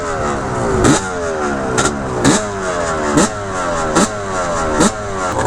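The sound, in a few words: Yamaha Banshee ATV engine revving on sand dunes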